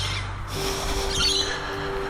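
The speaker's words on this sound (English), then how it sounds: "You can hear the Australian native birds in the background." Australian native birds squawk and call faintly in the distance, short scattered cries over a steady low outdoor hum.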